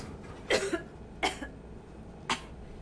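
In Mass Effect 3, a character gives three short, dry coughs spaced unevenly apart, close and quiet, the first a double hack and the last a single sharp bark.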